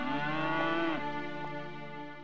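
A cow moos once, a long drawn-out low call that bends downward at the end, close and clear with no talking.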